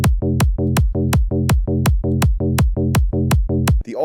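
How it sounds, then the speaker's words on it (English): A punchy, bouncy hard dance donk bass plays a steady offbeat pattern, about ten evenly spaced hits with clicky tops and boomy lows, loud and alone. "or a donk that sounds like this."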